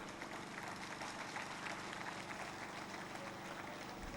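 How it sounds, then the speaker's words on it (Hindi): An audience at a community welfare event claps loudly, a dense, steady wash of applause that fills the whole stretch without a break. "दरख्वास्त है कि ज़ोरदार तालियां बजाएं।"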